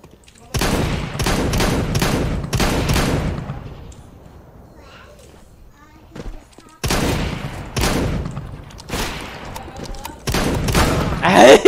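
Bursts of rapid gunfire from a weapon in a cloud-streamed shooter video game, loud and near, firing in several clusters with a quieter pause in the middle before heavy volleys resume.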